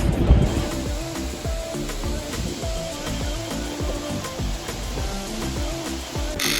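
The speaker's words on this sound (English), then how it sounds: "Here we are, pouring the very first mud of the new feed yard." Wet concrete rushes and sloshes out of a truck into feed-yard bunk forms on a farm, over the low, steady rumble of a nearby engine.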